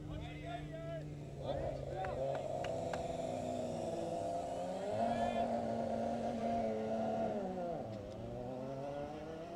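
A Formula SAE student racing car engine drones and shifts pitch as it passes during an acceleration event, with a commentator talking over it throughout.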